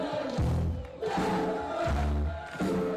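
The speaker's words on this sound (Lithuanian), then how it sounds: "Tokiomis skambiomis skanduotėmis Vilnius pasitinka FIBA Čempionų lygos laimėtojus" A large crowd of basketball fans in Vilnius, gathered by the White Bridge, chants in loud, sung phrases to welcome FIBA Champions League winners Rytas, voices rising and falling in repeated swells.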